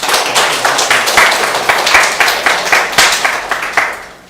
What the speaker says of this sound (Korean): 저희 선생님들께 좀 뜨겁게 박수 한번 쳐주시고